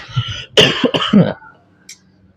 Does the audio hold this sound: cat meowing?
no